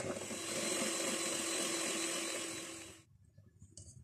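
Electric mixer beating oil and caster sugar in a bowl for carrot and walnut cake, a loud steady whir that runs for three seconds, then cuts off to near silence.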